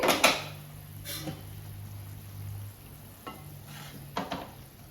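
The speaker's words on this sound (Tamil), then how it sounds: "இப்போ குழம்பு நல்லா கொதிச்சுக்கிட்டு இருக்கு" A pot of Tamil lentil dumpling curry (paruppu urundai kuzhambu) bubbling and sizzling steadily at close range, with a few sharp clinks and knocks of utensils against it and a low hum underneath.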